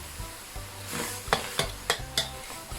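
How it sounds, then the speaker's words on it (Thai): Roasted shrimp heads and shells cook in a little water in a pot for stock, a bubbling sizzle with a low hum beneath and four sharp stirring scrapes at regular intervals, close and without talk. "เราก็จะต้มหัวกุ้งกับเปลือกกุ้งที่เราคั่วเขาไว้นะคะสักแป๊บหนึ่งเพื่อทำเป็นน้ำซุปค่ะ"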